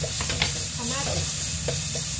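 Tomatoes stirred into a sizzling pan while cooking balatong with meat, a steady frying hiss running throughout with a few soft scraping stirs, close and continuous with no talking.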